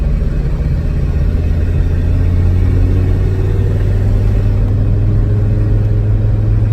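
A 1991 Toyota Land Cruiser PZJ77 cruising at steady higher speed, its low engine drone and road rumble continuous and loud throughout, with no voices.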